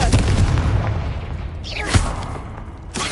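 A Confringo spell blast in a Harry Potter video game goes off as a loud booming explosion, followed by a brief whooshing effect and another impact near the end.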